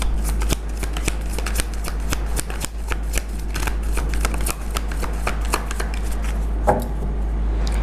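A deck of tarot cards is shuffled steadily and close up, giving a dense run of quick papery flicks and snaps that continues for several seconds with no talking.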